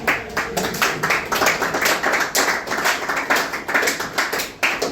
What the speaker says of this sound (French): Applaudissez les jeunes hommes